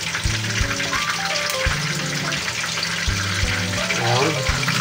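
Boneless milkfish (bangus) hits hot oil in a pan, giving a steady hiss and crackle of frying under a voice speaking nearby.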